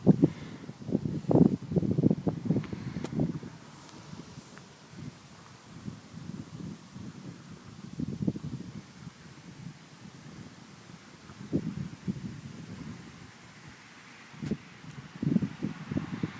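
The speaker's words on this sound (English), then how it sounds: "The wind's really picking up where it was just gusts." Thunderstorm wind gusts buffet the microphone outdoors as irregular low rumbling bursts over a steadier breeze, with no voices heard.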